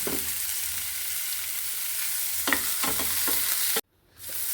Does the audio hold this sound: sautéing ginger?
yes